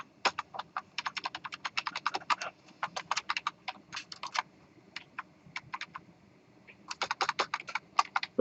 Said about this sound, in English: it's taken me a while to type it